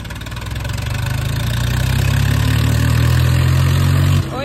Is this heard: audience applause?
no